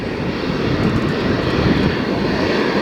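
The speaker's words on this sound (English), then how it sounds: "We've got the Saudi Arabian F-15s just taxiing out." Saudi Arabian F-15 fighter jets taxi out at a military air exercise, giving a steady, loud, rumbling engine roar with a broad low-frequency drone and no speech.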